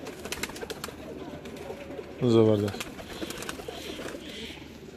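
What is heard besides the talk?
golden pigeon cooing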